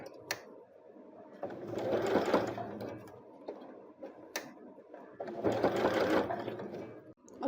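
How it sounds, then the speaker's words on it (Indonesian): Sewing machine stitching through a thick part of the fabric for a trumpet-flower project, in two loud close bursts of rapid needle chatter separated by quieter pauses with sharp clicks. "sekarang kita akan menjahit bagian yang tebal"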